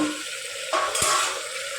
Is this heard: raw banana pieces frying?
yes